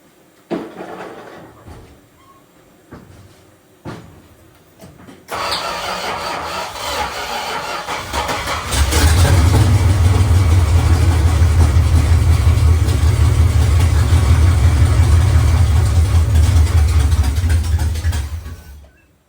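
A Dodge Power Wagon 400 engine cranks on its new starter after head gasket work, starting with a few sharp knocks, then a loud whirring crank that catches into a rough, uneven idle running close and steady.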